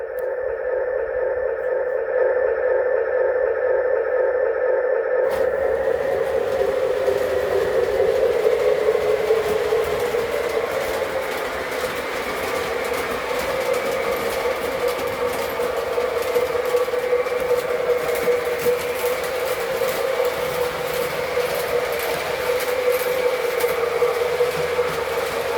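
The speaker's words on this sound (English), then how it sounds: "let's run this train a little bit more" A train runs steadily, a continuous rumbling, rattling noise that starts abruptly after a few seconds and carries on evenly to the end.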